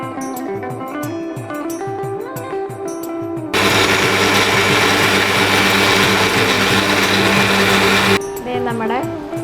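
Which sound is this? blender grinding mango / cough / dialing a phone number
blender grinding mango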